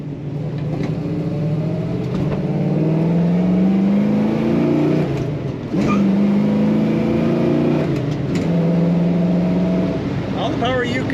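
A 1967 Chevrolet Chevelle SS hardtop with a big block engine cruises on the highway, its loud, steady engine drone rising with each acceleration. Road and wind noise stay constant, with a short dip in pitch around a gear change.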